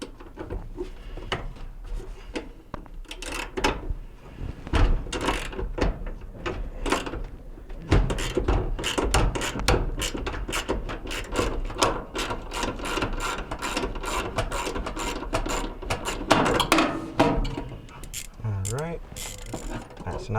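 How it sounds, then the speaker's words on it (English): A socket wrench ratchets as it loosens the idler pulley bolt inside a Whirlpool dryer during repair, giving close, dense metallic clicking bursts with scraping and clanks of parts, steady throughout with little talk. "We're going to use our socket wrench here."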